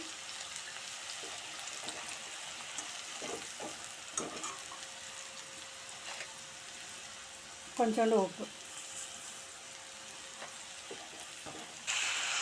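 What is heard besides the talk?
garlic frying in oil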